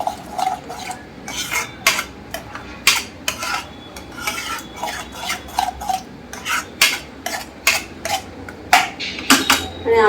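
Ground masala is stir-fried in a pan, a spoon scraping and clanking against the metal in quick, repeated strokes over a soft background sizzle.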